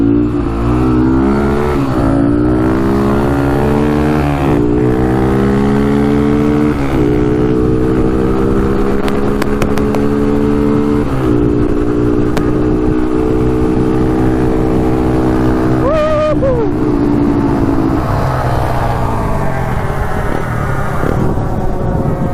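Two Honda ATVs, a TRX 300ex and a TRX 250x, rev hard and race side by side, their engines climbing in pitch through repeated gear shifts, loud and close throughout.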